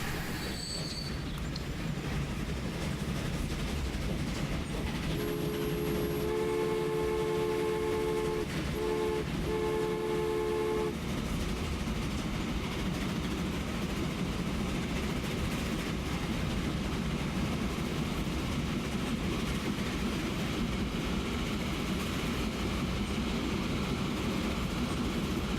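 A train rolls steadily through the rail simulation Transport Fever, a constant broad rumble of wheels on track filling the whole stretch, with a brief horn-like tonal blast partway through and no voices.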